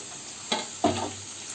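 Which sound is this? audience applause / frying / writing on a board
frying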